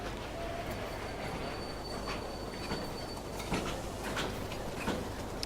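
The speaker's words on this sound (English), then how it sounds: "So you'll see that in a second with the second passenger train coming in." A passenger train arrives at a station in the Railway Empire video game, set in Great Britain and Ireland, making a steady low rumble with faint clicks and a thin high squeal from the wheels, heard quietly and alone.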